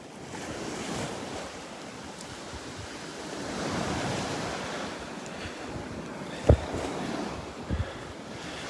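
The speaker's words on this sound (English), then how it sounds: "we're walking south down the beach at Delnor-Wiggins Pass State Park up in North Naples" Surf rolling onto the beach at Delnor-Wiggins Pass State Park in North Naples, Florida, a broad, continuous wash of waves with wind buffeting the microphone and a few thumps, close and without talk.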